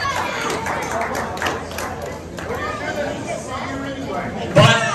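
A full, sold-out crowd at a live pro wrestling show chatters in a steady indoor hubbub, with scattered claps and voices throughout and a sharper burst near the end.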